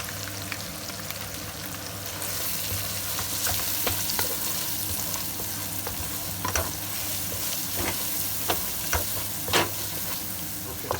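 Masala spices frying with onions, garlic and ginger paste for smoky keema, a close, constant sizzle punctuated by repeated sharp scrapes and knocks of a spoon stirring the pan.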